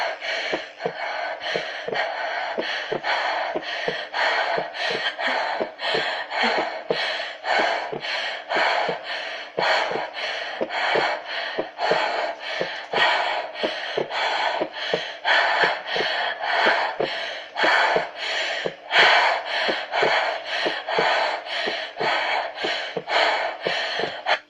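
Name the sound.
fast anxious breathing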